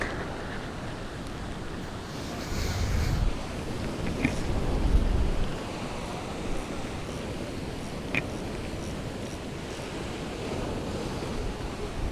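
Steady rush of ocean surf with waves washing in during a storm in Occidental Mindoro, swelling slightly louder midway, with some wind buffeting the microphone.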